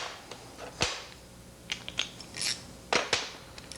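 Hand ratchet loosening the bolts on an engine's rocker cover during a teardown, a few sharp clicking bursts and short mechanical rattles close by, with no talk.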